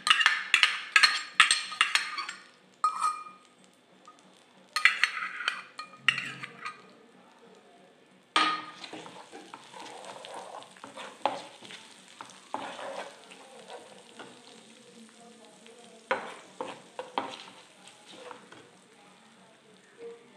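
Onion and green chili paste sizzling in a pan as spices are added one by one, with bursts of frying crackle, stirring and clinks of a utensil against the pan, busier at the start then settling into a steadier, softer sizzle.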